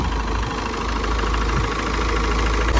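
A 2016 Peugeot 508 RXH 2.0 HDi diesel engine idles steadily and smoothly, a continuous low rumble with an even rhythm, close by and fairly loud, with no voices.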